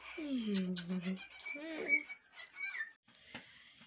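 A pet cockatiel whistling up close: clear, gliding whistled phrases that rise and fall, followed by a few shorter chirpy notes, with a little talk in the background.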